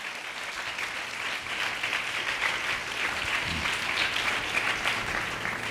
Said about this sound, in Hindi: ताली बजाइए स्वर्ग का यीशु के लिए।